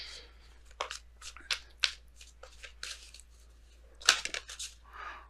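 Wisdom of the Oracle cards being shuffled by hand, close and fairly quiet, in a string of uneven crisp riffling and slapping bursts, with a louder cluster near the end and no talk.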